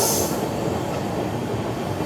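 A Palnadu SF Express train with LHB coaches rolls along at steady speed: a continuous, loud, even rumble of wheels and carriage noise, with no voices.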